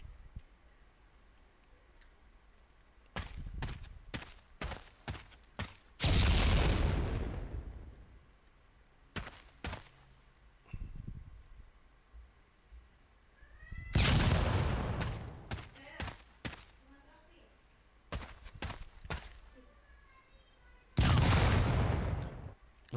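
Several grenades thrown in an Unreal Engine horror game explode one after another, each a sharp blast with a long decaying rumble, separated by quieter clicks and handling sounds.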